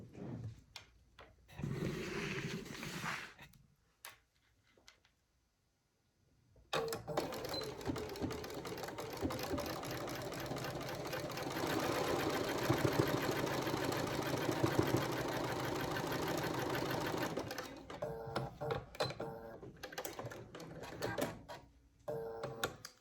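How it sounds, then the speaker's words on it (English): A sewing machine stitches fabric strips together for a quilt, running in one long steady burst of rapid needle chatter after a few short starts and stops. "we're going to start matching these up and sewing them together"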